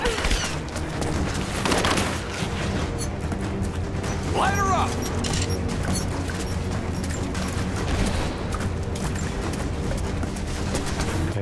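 Gunfire bursts in the video game Rise of the Tomb Raider crackle through a dense, loud battle mix, with a sharper report near the start and a steady wash of combat noise throughout, under occasional talk.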